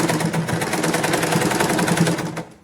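A domestic sewing machine stitches along a palazzo pocket, running in a steady, rapid, close mechanical chatter that carries throughout and cuts off just before the end.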